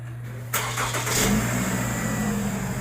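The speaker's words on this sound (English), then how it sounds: "I'm going to start this up and see if everything works." A 2013 Toyota RAV4 engine cranks briefly and catches, then settles into a steady, close idle hum, with no voices over it.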